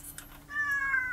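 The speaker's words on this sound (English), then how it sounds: "the ability to set all of the sounds to cat noises" A street photography camera with its sound effects set to cat noises plays a cat meow, a clear drawn-out mew with a rising tonal wail after a few faint clicks, moderately loud and alone.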